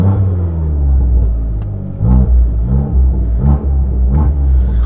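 A Fiat 500 Abarth engine revs while the car sits stationary, heard from inside the cabin: a loud, deep rumble that swells with several throttle blips, each rising briefly then falling back to idle.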